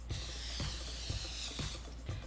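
Cooking spray can hissing in a steady, continuous spray while making chicken and waffle cookies, with faint periodic low taps underneath.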